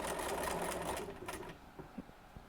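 A sewing machine runs a quarter-inch seam in a quick whirring burst of about one and a half seconds, then slows to a few soft mechanical clicks, close up and without talk.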